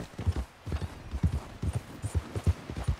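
Horse hooves clip-clop in a steady galloping rhythm in Red Dead Redemption 2, close and fairly loud, with a repeating pattern of heavy thuds.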